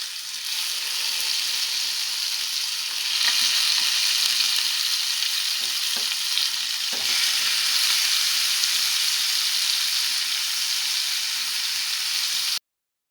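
Chicken leg pieces fry in ghee in a pan over a medium flame, giving a loud, steady, close sizzle with a few small pops and clinks before the sound cuts off abruptly.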